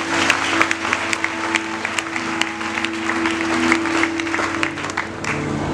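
A church congregation claps and cheers in praise, with sustained applause and sharp individual claps over a droning musical backdrop and scattered voices.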